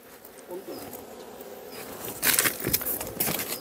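Korean native honeybees buzzing around a wooden hive box, a close, dense insect hum that grows louder in the second half, with a faint voice murmuring underneath.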